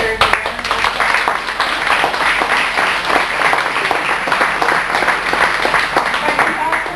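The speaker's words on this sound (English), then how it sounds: "I think he deserves a round of applause." At a 1992 Marx reunion gathering, a crowd breaks into loud, sustained applause. The clapping is close and continuous for several seconds.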